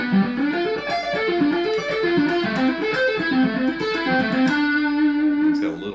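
Guitar arpeggios outline a minor i, major IV and minor v progression implying Dorian, played with an effected, slightly distorted chorus-like tone in a steady, continuous rhythm with no talk.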